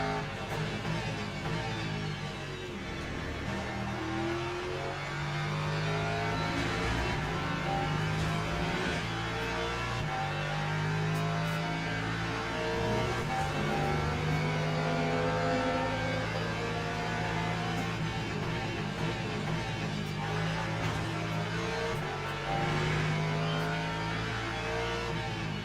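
A Lamborghini race car engine in Le Mans Ultimate drones steadily throughout, rising and falling with revs and gear changes at a constant, fairly loud level with no talk over it.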